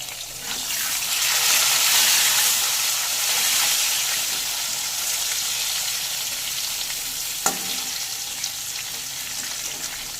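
Sliced potatoes and eggplant fry in oil with salt, giving a steady, fairly loud sizzle of crackling hiss that swells early and then settles, with one sharp tap near the end.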